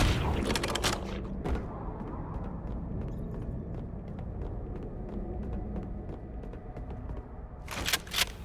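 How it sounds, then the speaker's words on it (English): Gunfire from the Halo video game, a rapid series of sharp cracks over a constant low rumble of in-game ambience, with a denser burst of shots at the start and again near the end; no frag grenade blast stands out. "fire a couple shots, wait for them to bunch up, and then come over here and bounce a frag grenade off the wall, and it'll take them all out"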